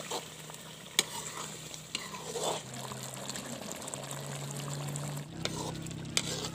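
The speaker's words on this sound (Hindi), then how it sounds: "अभी हम शामिल करेंगे इसमें क्रीम। और इसको मिक्स कर लेंगे।" Cream being stirred into chicken karahi in a pan, village-style cooking: steady scraping and stirring with a soft sizzle underneath, close and continuous, with a few sharper clinks of the spoon against the pan.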